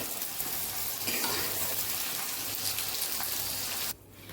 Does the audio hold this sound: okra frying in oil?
yes